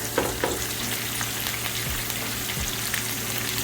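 Ribeye steak sizzling steadily in a hot pan, a dense close frying hiss running throughout with a few soft knocks and shifts, no voices.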